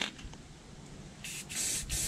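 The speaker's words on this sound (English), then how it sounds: "just spray it with what we've got left here and see what it looks like" A nearly empty spray paint can hisses in a few close, short bursts, each a sharp airy spray with brief gaps between, used on edges of a 2006 Ford Focus ZXW in a workshop setting.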